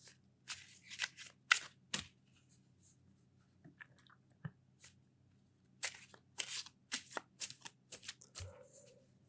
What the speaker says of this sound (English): we're going to shuffle half of the cards